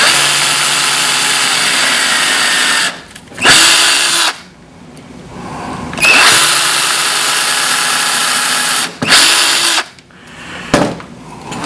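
A power drill whirs loudly in long sustained bursts while drilling mount holes, stopping briefly between runs before spinning up again.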